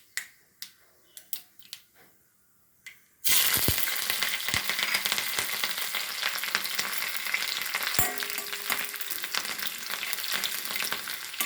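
Ginger and green chillies hit hot oil with popped mustard seeds for a garlic pickle, bursting into a loud, steady sizzle after a few sharp crackling pops from the seeds, continuing without pause and with no voices.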